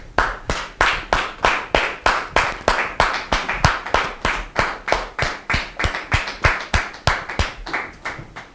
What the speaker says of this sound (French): On les reçoit sous vos applaudissements